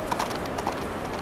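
Horse hooves clip-clop on ground near Holywell Bay in Cornwall, a few quick close steps in a brief burst with no talking.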